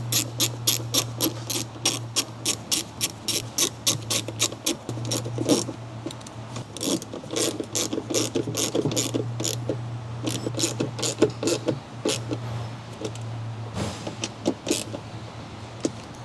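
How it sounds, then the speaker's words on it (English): Small ratcheting wrench with spinner handle and T30 Torx socket driving three retaining bolts on a 2013-2016 Ford Fusion right rear door latch, giving a long run of rapid, evenly spaced clicks, close and fairly loud over a steady low hum. "Using the small ratcheting wrench and spinner handle and T30 Torx socket, install the 3 retaining bolts."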